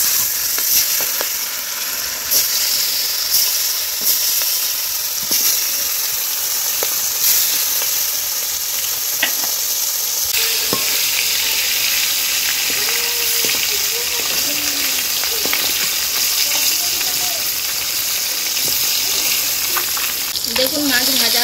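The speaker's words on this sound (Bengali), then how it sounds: "গরম হয়ে গিয়েছে, মাছটা দিয়ে দেবো।" Turmeric-coated fish fries in hot oil with a loud, continuous hissing sizzle and occasional spits and crackles, holding steady for over twenty seconds, with a voice faintly audible at times.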